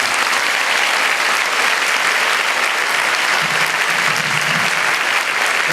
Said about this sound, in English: Please give a warm round of applause for your United States Senator, Roy Blunt.